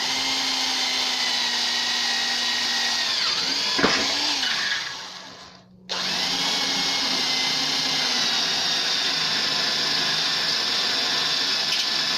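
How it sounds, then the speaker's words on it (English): A power drill with a 1/4 inch bit bores through a utility trailer's frame, a steady, loud motorized whine with a brief sharp knock and a short dip before the drone resumes at full strength. "I'll drill it all the way through with a 1/4 inch"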